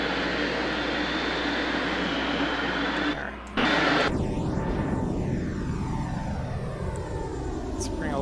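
Boeing 747-100 engines in Flight Simulator X throttle up: a loud, steady jet roar with a brief dip, then rising whine and sweeping tones as power builds, under a speaking voice.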